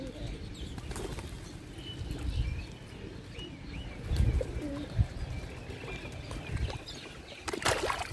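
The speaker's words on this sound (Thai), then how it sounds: "ตอนนี้คุณนายก็กำลังให้อาหารนกอยู่นะคะ นกพิราบ" A flock of pigeons being fed beside a shady fish pond in Kamphaeng Phet, with bursts of flapping wings, soft low cooing and scattered chirps, near and moderately loud.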